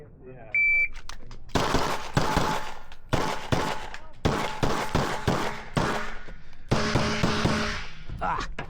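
Rapid pistol shots from a PSA Dagger handgun on the first stage of a USPSA match, fired in several tight bursts of loud, sharp cracks with brief pauses between strings, after a short electronic start beep.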